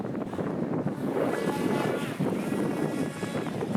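An RC boat runs at full throttle across a lake, giving a constant rushing roar of churning water and wind buffeting the microphone, close and loud throughout.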